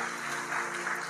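An audience applauds students at a district-level badminton and table tennis tournament, a steady, dense wash of clapping at moderate volume with no break.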